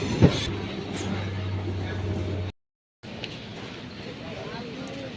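A train pulling into Yelahanka Junction, a steady rumble with a low drone and wheel noise that breaks off briefly midway, with voices faintly mixed in.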